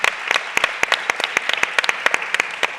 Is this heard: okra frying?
no